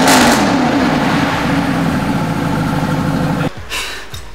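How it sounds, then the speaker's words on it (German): A Mercedes-Benz SLS engine revs loudly and steadily close by, a rough, powerful roar that holds for about three and a half seconds and then drops off abruptly to a lower idle. "Das kann noch ordentlich Gas geben, Krach machen."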